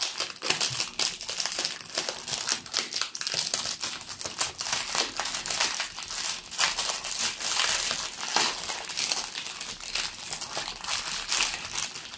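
Diamond painting kit packaging being opened up close, a continuous run of crinkling and crumpling plastic and paper with rustles and small crunches, no voices.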